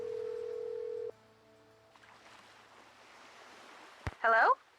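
A steady telephone dial tone opens a call to Bess in the Nancy Drew game Danger on Deception Island. It cuts off after about a second, giving way to a quiet line and a short burst of clicks near the end.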